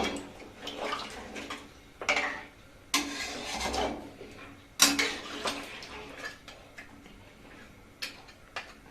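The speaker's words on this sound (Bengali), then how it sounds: "এবার আমি পরিমাণ মতন জল দিয়ে দেবো। এবার একটু ভালো করে নাড়া দিয়ে নেব।" Water poured into a pot of goat head curry and stirred, with scattered clinks and scraping of a spoon against the pot in short bursts, close up and fairly quiet.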